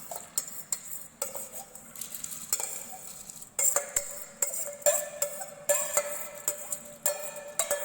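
Rice goes into a pot of red adzuki bean water, with scraping stirs, light metallic clinks of a spoon against the pot and a soft simmering hiss in the background.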